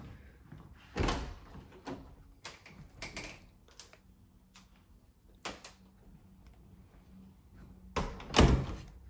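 The back door of a mobile home is worked open and shut, giving several loud clacks and thuds with latch rattles and quieter handling in between, heard close in a quiet room.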